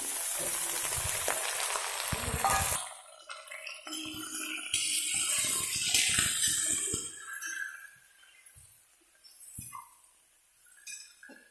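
Chicken meat goes into a pan of frying onions for an Assamese-style curry: a loud initial sizzle, then fluctuating frying with scraping stirs and occasional light clinks of a utensil, fading gradually toward the end.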